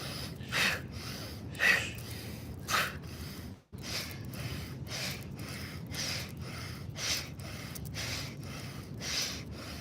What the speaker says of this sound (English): your belly with some Kapala Bhakti, breath of fire